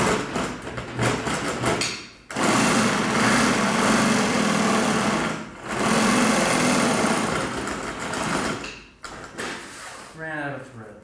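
A sewing machine stitching boat canvas runs in several loud, steady mechanical bursts separated by short pauses, with handling noises between runs and speech at the end.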